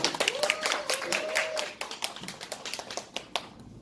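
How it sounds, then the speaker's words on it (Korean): Audience clapping to welcome a speaker at a business presentation in New York, scattered sharp claps at close range, fairly quiet and thinning toward the end. "큰 박수 한번 부탁드리겠습니다"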